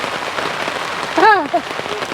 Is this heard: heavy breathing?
no